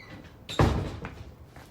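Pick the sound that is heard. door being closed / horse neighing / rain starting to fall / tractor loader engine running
door being closed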